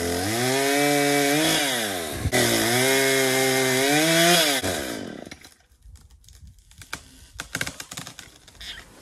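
A chainsaw cuts down an overhanging cork tree branch beside a house, its loud, steady engine whine dipping and rising under load for about five seconds before cutting out, leaving faint scattered knocks and rustling.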